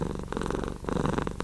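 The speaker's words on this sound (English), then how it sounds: "Oh, purring." A cat's deep purr rumbles continuously up close, a rhythmic pulsing drone with a short dip partway through before it resumes at full strength.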